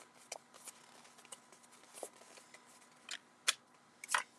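Sparse crinkling and crackling of water-reactive ink-covered paper being crushed for holiday card backgrounds, with scattered sharp bursts and quiet gaps between them.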